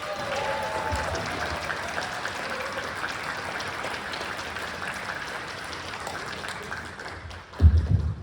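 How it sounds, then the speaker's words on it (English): A large audience at a comedy hypnosis show at a women's VFW conference gives sustained, dense applause that holds steady for several seconds, then thins, with a few louder claps and bumps at the end. "on the count of 3, just give them a huge round of applause"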